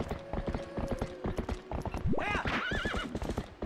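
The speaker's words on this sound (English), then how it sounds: "So we should probably be able to just ride the horse across." Horse galloping in Twilight Princess: a steady run of clip-clop hoofbeats, then a loud rising neigh and whinny rings out near the end, all without speech.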